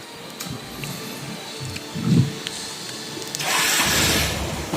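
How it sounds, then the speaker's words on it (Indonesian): A motorcycle's electric starter, running on a new dry battery, whirs briefly and then settles into a loud, sustained cranking rumble that holds through the final seconds. "Kita coba ya untuk menghidupkan starter."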